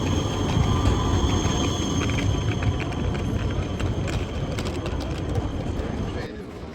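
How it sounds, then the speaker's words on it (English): A tram rumbles past nearby in Brno's Old Town, Czech Republic, with a steady low roll and faint wheel squeals, the noise easing off at the end. "A tram goes by as we make our way out of the Old Town Hall area."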